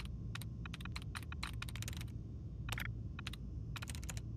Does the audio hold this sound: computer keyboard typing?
yes